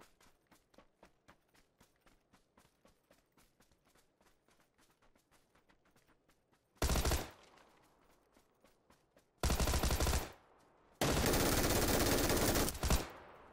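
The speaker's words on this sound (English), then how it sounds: "He's got a Tommy gun." A Tommy gun firing in PUBG, first as a long run of quiet rapid single shots ticking along, then three loud sustained automatic bursts close by, the last one longest, with no voices.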